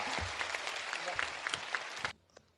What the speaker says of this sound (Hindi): एक बार इस बच्चे के लिए तालियां बजाइए दोनों हाथ उठाकर।